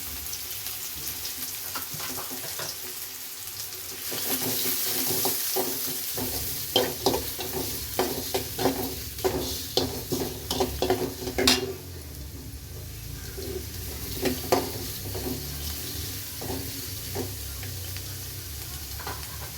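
Finely chopped onion hits a hot pan and fries with a close, steady sizzle, broken by a run of quick clattering stirs in the middle before settling back to frying.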